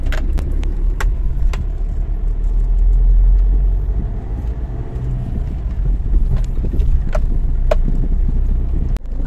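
A car drives along a road, heard from inside as a constant low rumble with sharp clicks and knocks scattered throughout, swelling briefly in the middle.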